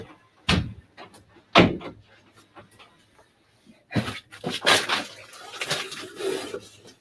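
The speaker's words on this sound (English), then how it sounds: "I'm just going to shut my door one sec." A door is shut with a couple of sharp thuds, followed by shuffling and rustling movement close by, indoors.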